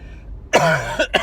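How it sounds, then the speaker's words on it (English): A single harsh, dry cough bursts out close up, followed by two shorter rasping throat sounds. "still have a dry cough"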